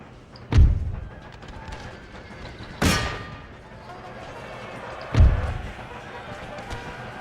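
Troops fire volleys in the Empire Total War video game, three booming discharges spaced a few seconds apart, each a sharp thud with a crackling tail, over a low battlefield rumble while someone talks.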